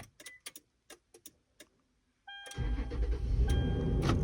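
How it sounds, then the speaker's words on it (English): A Toyota fitted with an aftermarket remote starter: a few light clicks, a short pause, then the engine cranks briefly and catches into a steady, close idle with a faint whine. "Let's test if the vehicle starts."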